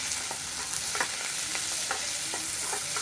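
Large-cut onions sauté in a pan with a continuous close sizzle, broken now and then by soft scrapes of stirring, and no voices.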